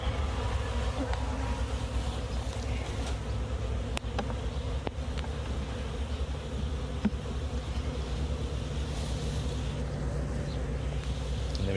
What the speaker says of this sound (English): Now we get to put live bees in the cup.